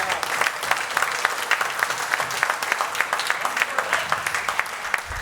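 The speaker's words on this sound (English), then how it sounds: "Big round of applause." An audience at a live drum clinic in a music store applauds steadily, with dense clapping that holds for several seconds before fading slightly at the end.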